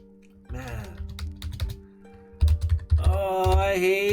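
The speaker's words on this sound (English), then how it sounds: "Oh, I hate the typing." Fast typing on a computer keyboard, close, in irregular clicking bursts with a short pause in the middle and a steadier run at the end.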